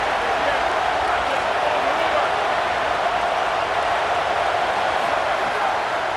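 Steady stadium crowd roar in an EA Sports College Football video game, a dense, continuous wash of cheering that holds at an even level throughout with no individual voices standing out.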